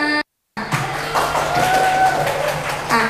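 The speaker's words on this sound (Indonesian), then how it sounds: "Tepuk tangan requestnya." Audience applause at an Indonesian literary reading and writing event, a steady wash of clapping that runs for about two and a half seconds after a short silent gap, with a faint sustained tone underneath.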